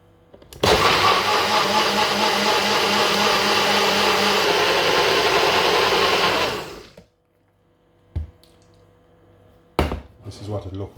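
A blender whirs loud and steady for about six seconds as it purees aloe vera and coconut water into juice, then cuts off abruptly, followed by a few faint clinks and handling noises.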